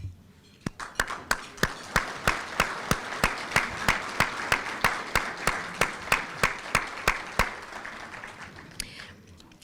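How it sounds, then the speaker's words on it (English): An audience at an ethics summit breaks into applause for the commissioners, a ragged but fairly even patter of many hands at moderate volume that thins and fades near the end. "I would like it if our commissioners could please stand for a round of applause"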